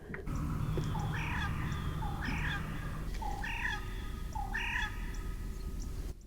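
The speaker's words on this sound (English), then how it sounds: "That's the most bizarre bird call ever." On a lake, an odd bird repeats a rising, warbling call four times at regular intervals, fairly close, over a steady low rumble of boat motor.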